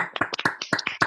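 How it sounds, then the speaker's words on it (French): Brief, crisp clapping at an innovation awards ceremony: a short burst of close, distinct hand claps in a quick irregular rhythm, with no talk over it. "Je crois qu'on peut l'applaudir chaleureusement."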